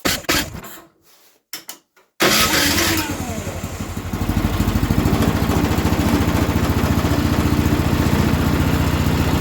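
A snowblower engine stutters through a brief start attempt, goes quiet, then catches and settles into a steady, loud idle that runs on out in the cold during a snowstorm.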